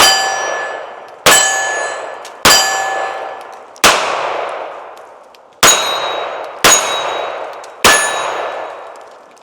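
Pistol rounds ringing off a steel target, seven sharp metallic clangs spaced about a second apart, each followed by a long, fading ring.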